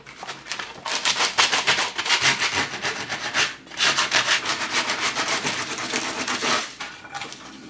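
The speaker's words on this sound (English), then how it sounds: "some of the sandpaper is really aggressive to get some gouges in there" Aggressive sandpaper rubs rapidly back and forth across a wooden Camp Crystal Lake sign to weather it, loud and close, with a brief pause midway before the sanding resumes.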